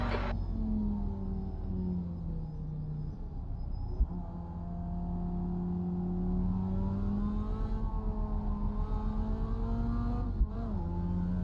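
A race car in iRacing revs and holds its engine under throttle, with a steady, close tone rising and falling through gear changes and no talk.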